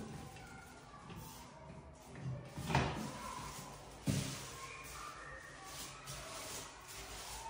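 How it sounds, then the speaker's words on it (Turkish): A door in an apartment in Göztepe, Kadıköy, Istanbul opens and closes, with two sharp knocks a second or so apart inside a quiet, slightly echoing room and faint shuffling around them. "Birinci kapı."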